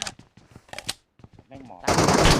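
Gunfire in the video game PUBG Metro Royale: a dense, loud burst of rapid automatic fire breaks in near the end, after excited talking.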